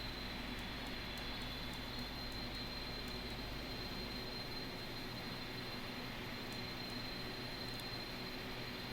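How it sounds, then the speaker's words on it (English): Airbus A300-600 jet engine running after start in a flight simulator, a steady broad roar with a constant high whine on top, even and unbroken throughout, with faint ticking clicks near the start and end. "Starting engine 1. Oh yeah, listen to that."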